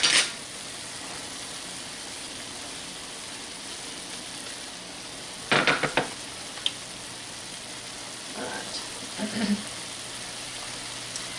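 Shallots go into a pan beside a browning ham steak, giving a low continuous sizzle broken by a burst of crackling as they hit the hot fat, followed by a few faint clinks and stirring sounds.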